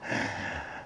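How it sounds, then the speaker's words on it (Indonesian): A man pants with a short, heavy breath, like a gasp, right after cycling uphill on a forest trail. The sound is brief, close and fairly quiet, with no words. "lumayan ngos-ngosan habis sepedaan"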